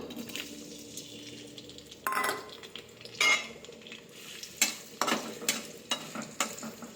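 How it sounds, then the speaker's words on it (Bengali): Onion sizzles in hot oil for a meat dish as a spoon stirs and clanks against the pan, giving a soft frying hiss broken by several sharp metallic knocks. "এইও তেলটা এবার গরম হয়ে গেছে। এবার আমি এই পেঁয়াজটা দিয়ে দেবো।"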